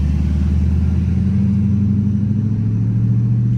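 A Dodge Charger RT accelerates hard with a deep, steady engine drone heard from inside the car, loud and continuous, its low pitch rising gradually with no talking.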